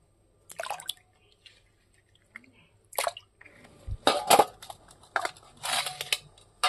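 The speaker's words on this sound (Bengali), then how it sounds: "মাছগুলো ধুয়ে নেই।" Fish being washed by hand in a bowl of water give intermittent sloshing, splashing and dripping sounds in short bursts, close and fairly quiet between them.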